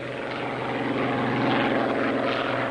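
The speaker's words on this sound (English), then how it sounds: "its fabulous engine, 27 litres of supercharged Rolls-Royce V12, the Merlin" A Spitfire fighter with a supercharged 27-litre Rolls-Royce Merlin V12 roars past, its steady, loud propeller drone filling the sound without a break.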